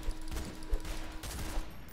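In a Roblox game, pistol bullets are sliced back with a sword, giving a quick run of sharp cracks and clacks at moderate distance over a faint steady hum, with no talk.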